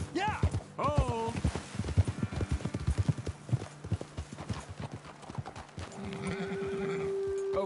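Horses in the Red Dead Redemption 2 video game: a run of hoof clip-clops at a steady walking rhythm, opening with loud whinnies and whinnying again near the end, fairly close.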